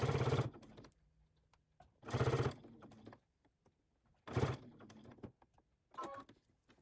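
A sewing machine stitches bias tape around the corner of a quilted potholder, running in four short, quiet bursts separated by pauses.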